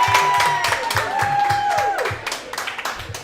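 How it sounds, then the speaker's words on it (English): Audience at a girls' bowling state championship celebration claps in a loose, ongoing patter for a grandfather, with a sustained tonal voice or whistle early on and claps thinning toward the end. "Let's clap it up better for Grandpa on that."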